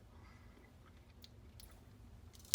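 Someone chews a small taste of chicken and rice casserole, giving soft, quiet mouth and chewing sounds close by, with a faint sharp click right at the end.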